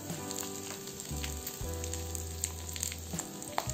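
Dried red chillies and curry leaves spluttering in hot oil as a tempering for Andhra-style dal, a continuous close sizzle with scattered crackles and pops, no talking.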